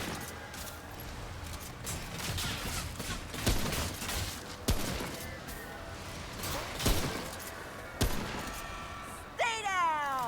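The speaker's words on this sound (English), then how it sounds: "Who the heck is shooting at me?" Gunfire in the video game Remnant: From the Ashes: repeated sharp shots and bursts aimed at the player, loud and close, with a rising whine near the end.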